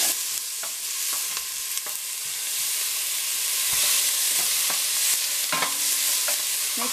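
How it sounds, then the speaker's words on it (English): Onion sizzles in hot oil in a pan, a bright continuous hiss with repeated scraping stir strokes, close and without talk. "I'm going to add my onion in there. And right away you want to give it a stir."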